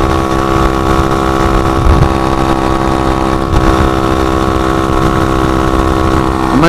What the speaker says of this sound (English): You're getting it done on the pit bike,